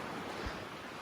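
Strong seaside wind in Wakayama, Japan, a steady broadband roar of gusts and surf-like rushing, loud and continuous with no voices.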